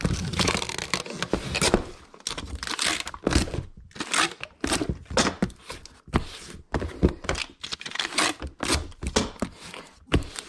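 Packing tape pulled and pressed onto a small shipping box with packing peanuts, giving continuous crinkling, tearing and scraping bursts in an irregular rhythm, close and fairly loud.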